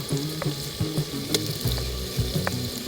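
Garlic paste hits a pan of chicken and slit green chillies, frying with a steady close sizzle while a spoon stirs and scrapes in short bursts.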